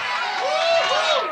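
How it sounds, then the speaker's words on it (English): A crowd at a live radio show chants together in a sustained, loud wash of many voices, rising and falling in pitch without pause. "The crowd is chanting."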